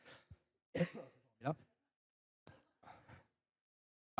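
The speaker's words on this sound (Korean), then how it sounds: "기침을 갑자기 기침이 나" During a church sermon a man coughs and clears his throat in several short, sudden bursts separated by pauses, close and fairly quiet, with a breathy vocal quality.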